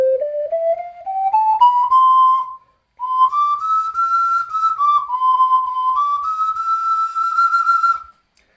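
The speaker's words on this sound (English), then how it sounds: "So this ocarina, it doesn't actually get all that loud at the high notes compared to the low notes." A Panch Alto C ocarina plays high notes, pure breathy tones climbing step by step, then after a brief pause a second phrase moves up and down, clear and solo with no talking.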